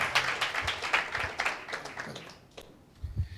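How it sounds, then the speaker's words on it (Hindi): A church congregation claps loudly together for a few seconds, a dense burst of applause that tapers off, with a low voice briefly audible at the end. "आइए जोरदार ताली देंगे परमेश्वर के नाम की महिमा के लिए।"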